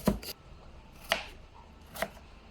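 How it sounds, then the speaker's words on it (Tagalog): A knife slicing through an apple on a cutting board, three separate crisp chopping strokes spaced about a second apart, close and fairly quiet with no talk. "So, mag-slice tayo. Bali, ang gagamitin natin, apple"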